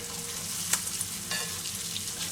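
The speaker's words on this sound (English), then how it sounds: "Our plan is just fry those meat surfaces so the juices won't get out of there." Beef pieces searing in a hot frying pan for roast beef, giving a steady broadband sizzle with a few sharp pops and spatters, close and continuous with no talking.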